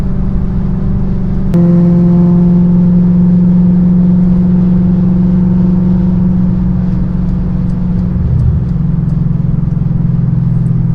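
A supercharged car engine idles with a steady low rumble, briefly revs up near the start, and dips then recovers toward the end; no voices.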